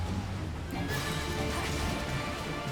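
A horse neighs loudly in Final Fantasy 14 over a continuous layer of game music and effects, with hoof-like clatter mixed in and nobody talking.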